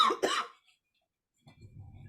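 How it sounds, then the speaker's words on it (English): One sharp, close cough with a quick second burst, followed by silence and then faint low rustling or breathing. "hold on, coughing"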